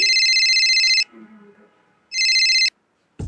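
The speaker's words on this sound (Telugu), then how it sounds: "ఏదో ఫోన్ వస్తున్నట్టుంది" A phone ringtone trills in two loud bursts, separated by a pause filled with faint low murmuring, then cuts off abruptly.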